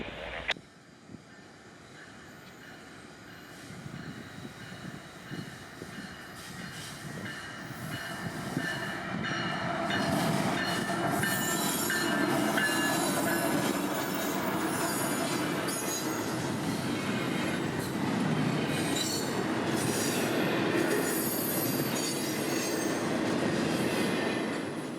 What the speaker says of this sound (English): CSX locomotive 3102 south of 1.